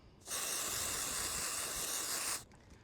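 Dry shampoo aerosol sprayed onto a golf club face, one continuous close hiss lasting about two seconds with quiet before and after.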